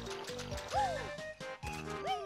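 Banjo wades slowly through swamp water in the video game Banjo-Kazooie, with sloshing, gurgling liquid sounds and bubbly effects repeating over steady background game music.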